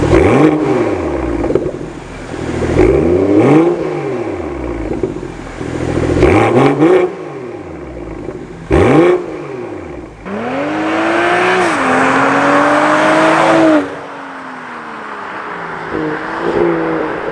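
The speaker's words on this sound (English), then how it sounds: "let me give you a small sound clip for the number 5 CSZ Exhaust" A BMW X3 M40i fitted with a CSZ exhaust gives several sharp throttle blips close by, each a quick rise and fall in pitch, then one longer sustained rev that settles back down, with no talk.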